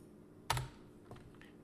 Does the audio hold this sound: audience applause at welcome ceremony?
no